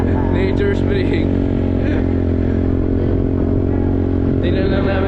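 Motorcycle climbing uphill on the way to a nature spring, a steady loud engine drone with rattling and scraping over it, close and continuous throughout.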